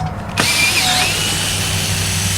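A power drill whirs up suddenly and keeps spinning with a steady, close, high-pitched whine while removing screws along a greenhouse.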